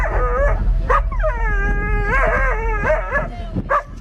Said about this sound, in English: two dogs are barking right at him